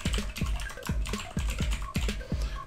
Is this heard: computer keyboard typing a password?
yes